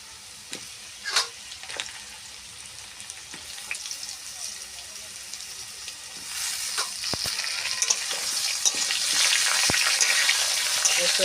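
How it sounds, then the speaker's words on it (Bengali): Potatoes fry in a pan before jackfruit is added, a continuous sizzle that starts moderate and grows louder and denser toward the end, with occasional sharp clicks of a utensil. "আলু ভাজা ভাজা হয়ে এসেছে"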